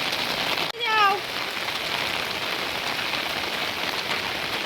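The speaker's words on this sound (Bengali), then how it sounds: "তো দেখো প্রচুর বৃষ্টি হচ্ছে" Heavy rain falls in a steady, dense hiss that continues throughout, with a brief tonal chirp near the start and no talking.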